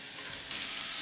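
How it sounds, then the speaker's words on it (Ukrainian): Chunks of chicken frying in a spoonful of ghee give a steady, close sizzle that swells slightly toward the end, with no voices. "Смажимо курку."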